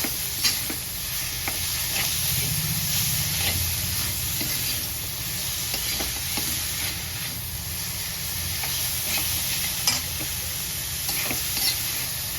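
Chavli leaf vegetable being stirred in a pan with salt and garlic, a steady soft sizzle and scraping that runs continuously under repeated light stirring strokes.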